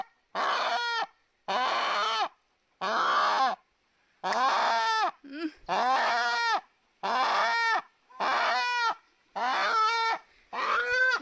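A chicken clucks and squawks in a steady series of loud, evenly spaced calls, close by with no talking.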